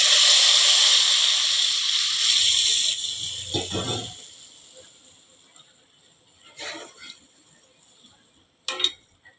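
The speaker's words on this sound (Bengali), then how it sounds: "এটার মধ্যে আমি জল দিয়ে দেবো।" Water poured into a hot pan of biryani base with chilli powder and salt sets off a loud, steady sizzling hiss that cuts off abruptly, followed by a few clinks and soft kitchen clatter.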